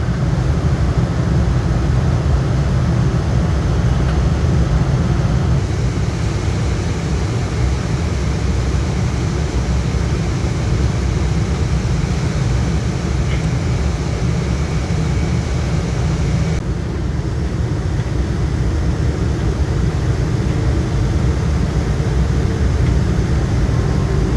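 The steady, loud roar of a Scoot airliner heard from inside the cabin during its landing, a broad continuous engine and airflow rumble holding constant for the whole stretch with no voices.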